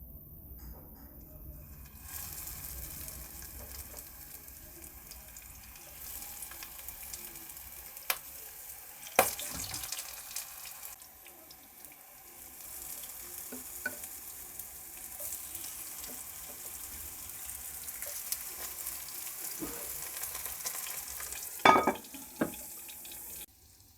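Chicken kebabs cook on very low heat in a pan, giving a soft, steady sizzle that stays faint, with occasional sharp clinks and light handling noises.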